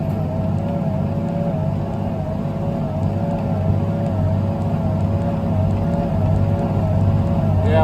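A farm tractor pulls and powers a straw baler in the field, its engine holding a steady, loud drone with faint rhythmic mechanical ticking from the baler throughout.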